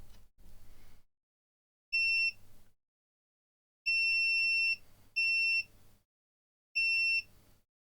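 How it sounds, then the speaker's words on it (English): A digital multimeter in continuity mode beeps with a high, pure electronic tone: four short beeps, one of them longer, as probes touch points on an Xbox One S circuit board, loud and close with quiet gaps between. "we'll hear a beep if we get a continuous circuit"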